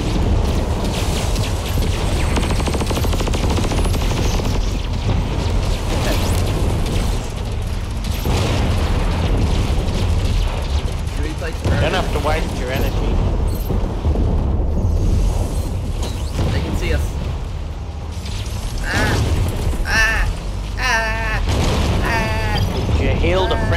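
Heavy bombing explosions in the vehicle-combat game Robocraft, a dense run of low booming blasts and bursts rumbling almost without pause, with players' voices talking over the battle.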